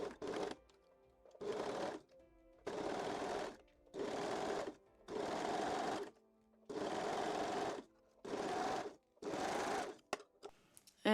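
A sewing machine stitches the back center seam of full lace Brazilian panties in eight or nine steady bursts of a few seconds each, separated by short pauses, loud and close with no voices.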